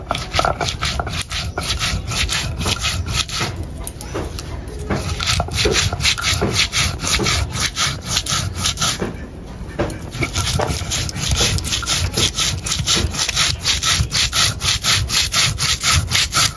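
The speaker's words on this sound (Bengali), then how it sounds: "প্রথমে জিরে ধনে বেটে নিব" Cumin and coriander are ground on a traditional grinding stone, a loud, close rasping scrape repeating in a fast back-and-forth rhythm with a few brief pauses.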